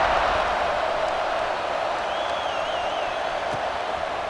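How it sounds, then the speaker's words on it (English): A stadium crowd in EA Sports College Football 26 buzzes after a score, a steady dense roar of distant cheering and murmur that holds level throughout without a break. "this crowd is buzzing after that last score"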